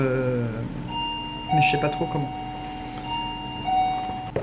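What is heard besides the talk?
doorbell ringing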